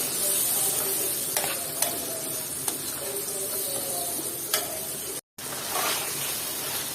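Potatoes stirred into hot spiced oil in a pan give off a steady sizzling hiss with a few sharp scraping clicks of the spoon, close and moderate in level, with a brief silent gap near the end; no talking.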